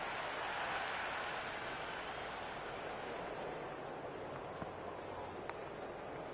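Continuous applause and crowd noise at a cricket match after a boundary, a steady broad wash of clapping with a couple of sharp clicks, moderately faint and without talk.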